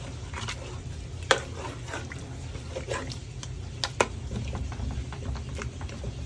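Fish head curry being stirred in a pot, with soft scraping and liquid sloshing, a few sharp clinks of the spoon against the pot over a steady low simmer hiss.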